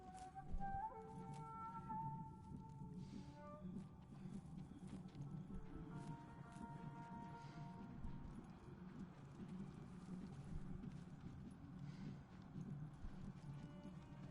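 Horse hooves clip-clop steadily in Ghost of Tsushima, a soft, continuous trotting rhythm running the whole way under quiet background game music and ambience.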